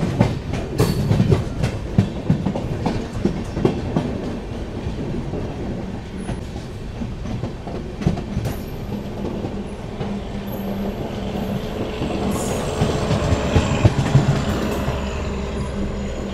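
The Andaman Express, running with new LHB coaches, rolls steadily with continuous rumbling and clickety-clack of wheels on rails, taking a light curve beside a platform, with faint squeals near the end.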